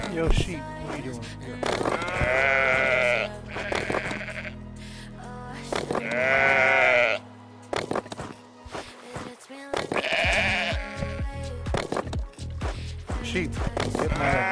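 Sheep in the video game House Builder bleat loudly several times in separate bursts, with quieter game sounds and soft clicks between the calls.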